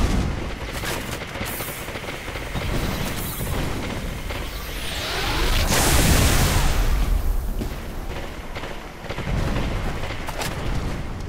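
Gunfire and booming blasts roar steadily through a Halo 3 battle aimed at a Warthog, a dense continuous barrage that swells louder toward the middle, with no voices over it.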